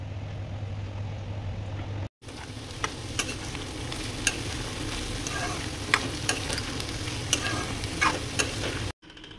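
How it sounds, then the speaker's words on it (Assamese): Maggi noodles sizzle steadily as they fry in a pan, with sharp clicks of stirring scattered throughout. A low steady hum runs at the start, and there is a brief break near the beginning. No speech is heard. "মই এতিয়া মেগী বনাব লৈছোঁ"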